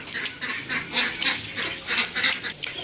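A flock of ducks being fed gives off a dense run of quacks and honks, many birds calling at once in a busy, close chorus.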